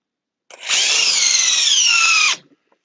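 A power drill on speed 3 in drill mode driving a big 1/2 inch bit, one close high-pitched whine lasting about two seconds, starting abruptly and cutting off cleanly.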